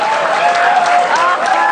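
A studio audience breaks into applause after a joke, a brief, loud burst of clapping and crowd noise.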